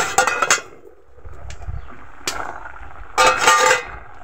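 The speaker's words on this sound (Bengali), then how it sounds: "চামচের সাহায্যে আম্মা সিদ্ধ আমগুলোকে ঘেটে নিচ্ছে।" Boiled green mangoes being stirred with a spoon in a pot, giving a few sharp metallic clinks and scrapes in short bursts separated by quieter gaps, close by.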